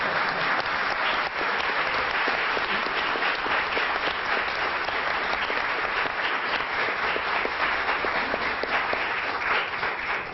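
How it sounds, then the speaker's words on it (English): Audience at a 1992 Law Day celebration applauding for Governor Cuomo, steady dense clapping throughout, loud and continuous with no pauses. "it's all right if you can applaud for Governor Cuomo"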